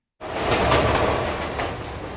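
A New York 7 train rumbles loudly and continuously, with a broad roar of wheels and cars that starts abruptly and carries on alone without talk.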